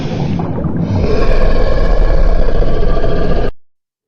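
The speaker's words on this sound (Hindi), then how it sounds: "1999, अटलांटिक ओशन में रिकॉर्ड हुई रहस्यमयी आवाज।" The Julia sound, a mysterious underwater noise recorded in the Atlantic Ocean in 1999: a loud, low, moaning tonal drone with layered overtones that swells after a second, holds steady, then cuts off abruptly.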